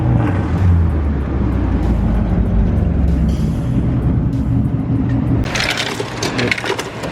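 A Honda Civic EK drives by on the road, its engine a loud, close, low droning rumble that carries for several seconds before fading as a brief crackly burst rises near the end.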